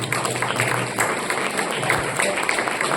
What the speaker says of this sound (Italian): Un applauso a questi dottori e un applauso a Marietta